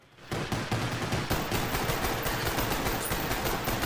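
Sustained rapid gunfire from a modded zombies video game, dense and continuous after a brief quiet start, loud and close with no pauses.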